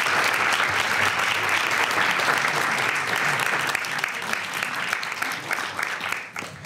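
A concert audience in Tallinn breaks into loud, sustained applause, a dense wash of clapping that lasts throughout and only begins to thin at the very end.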